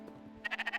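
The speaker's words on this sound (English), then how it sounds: "A sheep." A sheep in the video game Spiritfarer lets out a short, wavering bleat over a soft sustained game-music tone, quick and close.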